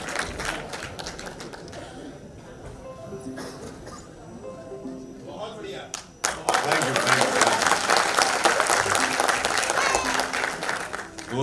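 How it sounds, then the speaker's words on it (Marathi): Audience at a Mumbai-style public celebration marking Veer Savarkar's 100 years bursts into loud, sustained applause after about six seconds, following a stretch of background music and murmur. "त्यांच्यासाठी पण जरा जोरदार टाळ्या आपण वाजवूया"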